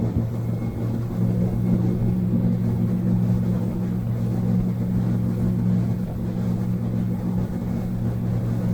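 An outboard boat engine, trimmed out, drones steadily at high revs, a loud continuous hum with a deep rumble and no break.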